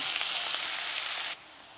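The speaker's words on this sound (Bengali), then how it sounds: "পেঁয়াজ ভাজা হয়ে গেছে" Onion frying in mustard oil with dried red chilli and whole garam masala gives a dense, close sizzle that cuts off abruptly near the end, leaving near silence.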